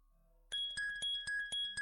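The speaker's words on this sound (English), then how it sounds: "No, that's not my phone ringing. That's your phone ringing." A phone ringtone of bright chiming tones starts abruptly and repeats in quick, even pulses, clear and close with nothing else underneath.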